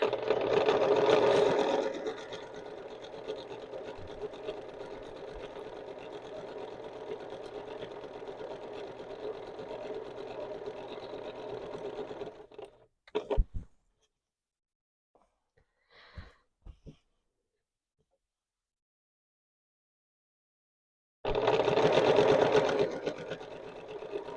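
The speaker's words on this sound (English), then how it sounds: "And keep on sewing." A sewing machine stitching quilt binding hums in a steady close whir for about twelve seconds, stops for a quiet pause with a few brief handling noises, then starts running again near the end.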